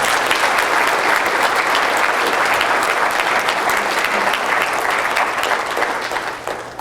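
A large audience at an annual general meeting breaks into loud, continuous applause, the clapping dense and even, then tapering slightly at the close.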